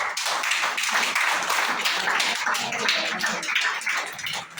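A group of elderly people clap together at a care home gathering during an action song session, producing steady, dense hand claps with no talk.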